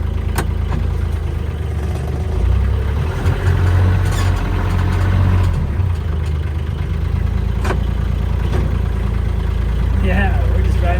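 Kioti tractor engine running steadily while being driven around, a loud continuous low rumble with slight rises in pitch, with voices talking over it.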